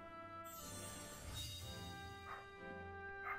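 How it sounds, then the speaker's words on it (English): A dog next door barks in a few short, faint yips in the background beneath a steady game music drone, quiet and distant. "I'm sorry if you can hear this dog as well in the background."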